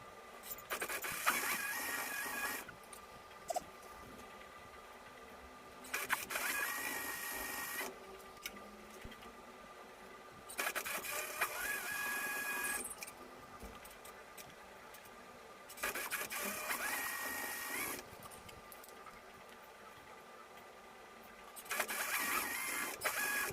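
A sewing machine stitches elastic onto a fabric waistband, running in several sustained bursts of a few seconds each with quieter pauses between them, fairly close and with no talk.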